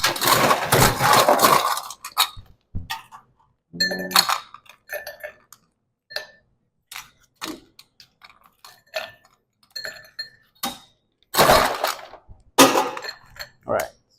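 Large ice cubes clink and rattle in a cocktail mixing glass, with a dense burst of clatter first, then scattered sharp taps and clinks, close and clear, with brief talk in between.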